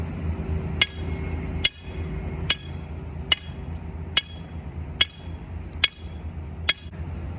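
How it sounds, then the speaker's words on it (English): A stake is driven into the ground with steady hammer blows, about nine sharp ringing strikes at an even pace of nearly one per second over a low background hum. "show us how to properly drive a stake into the ground"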